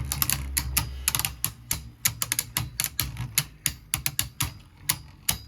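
Beyblade Burst tops clash inside a Chaos Core stadium, a rapid irregular stream of sharp plastic clicks and ticks, loud and close, with no voices.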